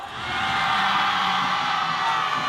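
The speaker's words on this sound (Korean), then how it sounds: "기다렸다는 듯이 환호하는 아이들." Children cheering and whooping as a performance team appears at a Busan safety experience center, a sustained, loud broadband roar of young voices filling the clip without pause.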